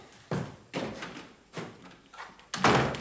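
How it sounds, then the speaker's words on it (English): A door is shut several times, each bump or slam landing as a distinct knock with a short decay, at a moderate level with no talking. "Just shut the door, man."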